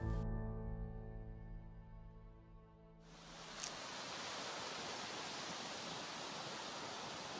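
A small hidden creek flows among aspens in autumn, a steady rushing wash of water that settles into an even, soft hiss after a brief louder start, with no voices.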